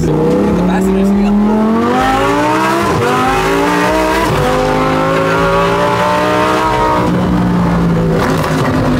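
Lamborghini engine revving loudly from inside the cabin, the exhaust note rising and falling through several surges with crackling pops between, close and dominant while people talk over it.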